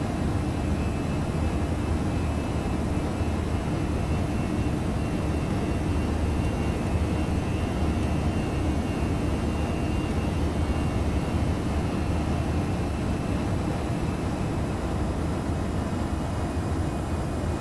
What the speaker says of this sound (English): I was losing a little too much speed here, so I'm throttling up, and you can hear that.